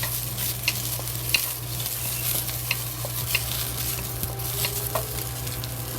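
Cut scallions frying in oil in a pot for scallion fried eggs, a steady close sizzle with scattered clicks and scrapes of a stirring utensil under a low constant hum, no talking.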